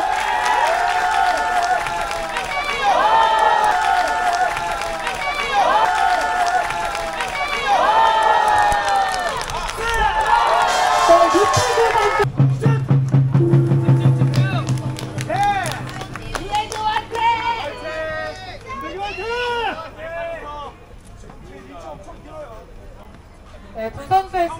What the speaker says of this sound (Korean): 여러분, 다시 한번 응원의 박수 보내주세요.